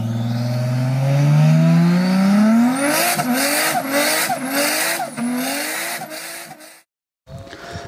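A 2003 Mercedes CL 55 AMG engine revs hard and rises in pitch, then shifts up through several gears as the car accelerates. The sound is loud and close and stops abruptly near the end.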